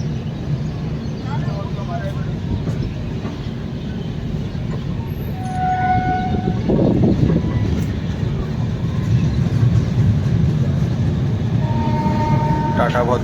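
The Howrah–Puri Shatabdi Express (12277) rumbles loudly and steadily through a rail journey in India, its noise swelling about halfway through, with brief horn-like tones and faint voices in the background.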